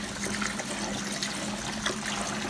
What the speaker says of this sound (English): So I'm just going to drain the water.